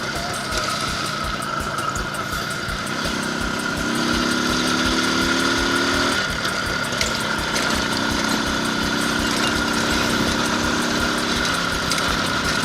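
An IZh Planeta 5 motorcycle fitted with a Zhiguli car engine runs steadily with a rhythmic mechanical thrum and a faint whirring hum, sounding close and continuous with no voices.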